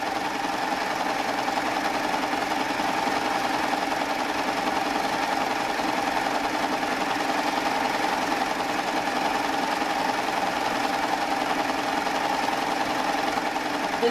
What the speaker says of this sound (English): And then continue with my 3-thread wave decorative stitch on the other side.